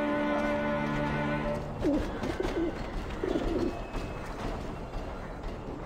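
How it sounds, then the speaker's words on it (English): Pigeons coo in soft, throaty bursts inside a coop in the video game Alice: Madness Returns, several rolling calls over a steady hum of game ambience, moderately close and fairly quiet. "I was up here seeing this lady's pigeons."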